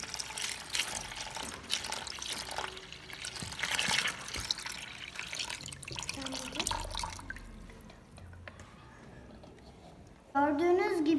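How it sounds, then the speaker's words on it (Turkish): Water poured onto a model house in a flood demonstration drips and trickles steadily. The sound is faint and close, with a louder splash of liquid near the end. "Gördüğünüz gibi su döktük"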